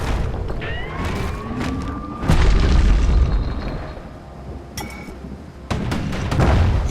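Live munitions exploding in the action video game Bastion, with a deep booming blast, a second heavy burst a few seconds later, and crackling debris between.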